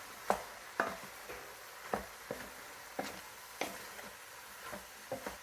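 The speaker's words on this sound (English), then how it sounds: "give that a quick stir" Beef stew is stirred in a pot, with quiet scraping and clinking strokes at irregular intervals over a faint simmer and no talking.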